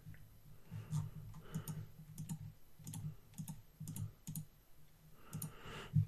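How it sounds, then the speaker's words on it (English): Numbers keyed into a calculator: a steady run of quiet, close button clicks and taps in uneven bursts, with a brief pause before a final flurry. "we'll type that into the calculator"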